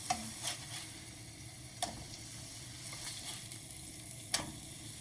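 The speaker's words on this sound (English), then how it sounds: "Let's get all that meat cooking in the oil" Thinly sliced meat frying in oil in a pan, a steady close sizzle with a few sharp clicks of a utensil stirring and tapping against the pan.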